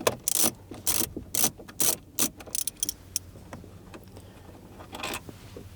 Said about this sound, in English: We're going to use a small ratchet with a little extension and a 10mm socket, and we're going to loosen and remove all 4 of these bolts